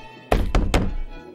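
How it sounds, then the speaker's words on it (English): Three heavy thuds of frantic banging on a door, loud and close, coming in quick succession and then fading into a short resonant tail. "You're startled by the sound of a frantic banging at the door."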